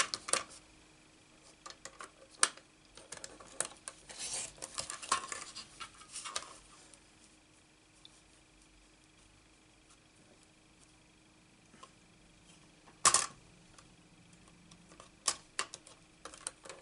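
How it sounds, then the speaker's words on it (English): A paper trimmer slices a card sentiment with a few sharp, brief clicks and slides spread over a quiet tabletop craft session, with no voices. "I use my trimmer."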